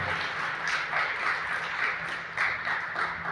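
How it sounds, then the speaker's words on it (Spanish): Congregation at a church service clapping steadily, a dense continuous patter of many hands filling the room at moderate loudness. "Denle un fuerte aplauso a nuestro Dios"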